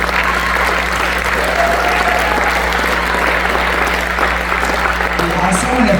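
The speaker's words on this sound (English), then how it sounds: "all of us owe them a big round of applause" Sustained crowd applause fills an awards banquet hall, even and continuous over a low steady hum, with voices talking beneath the clapping.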